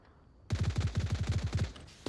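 Rapid automatic gunfire from the VR shooter game Onward bursts in after a quiet moment, a dozen or so evenly spaced shots in a fast steady rhythm, loud and close, with no talk over it.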